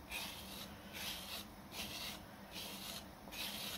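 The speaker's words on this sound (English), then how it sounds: "nice long smooth strokes with your rubber kidney" A rubber kidney smooths the wet clay wall of a hand-built coil bowl in long, even strokes, giving a soft, steady rubbing swish that pulses in roughly four close, repeated passes.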